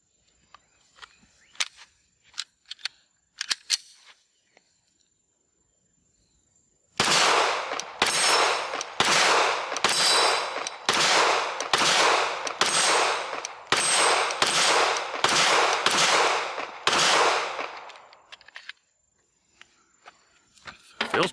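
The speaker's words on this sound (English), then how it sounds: "let's shoot a few rounds through this thing" Stoeger STR 9C pistol, new out of the box, firing a string of about ten loud, sharp shots in a steady rhythm, each crack distinct, after a few quiet handling clicks.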